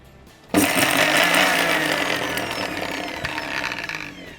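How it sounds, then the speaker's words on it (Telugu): A mixer grinder blending cumin, salt and coriander for paneer pakora starts abruptly after a quiet moment, then runs as a loud, harsh, continuous whirring grind close by. "ఇప్పుడు మొత్తం ఆల్ టుగెదర్ మిక్సీ పట్టేయాలి."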